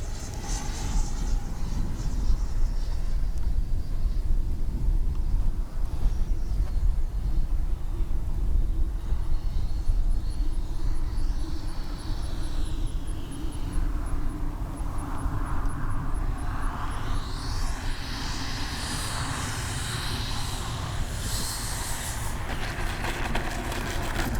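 A radio-controlled F-15 model jet with twin 64mm electric ducted fans comes in to land with gear down, giving a steady whooshing fan whine that shifts in pitch as it passes and settles, with outdoor wind noise.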